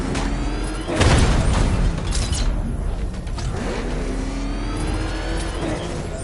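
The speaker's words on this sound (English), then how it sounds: "The Arkham Knight's vehicle swerved and crashed up ahead" A vehicle from Batman: Arkham Knight swerves and crashes, with a loud engine roar and a heavy impact burst near the start, then a steady mechanical rumble that fades but keeps going.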